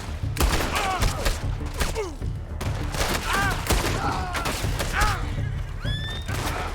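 Gunfire in Red Dead Redemption 2, a rapid series of sharp shots and booms cracking out irregularly amid game ambience and whizzing sounds, loud and fairly close.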